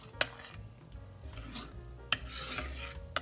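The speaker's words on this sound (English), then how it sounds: "So I'm just gonna stir that in." A spoon stirs creamy butternut squash soup with cinnamon and ginger in a pot, giving quiet scraping and rubbing with a few sharp clicks of the utensil against the pot.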